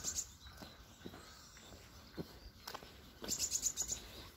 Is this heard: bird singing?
yes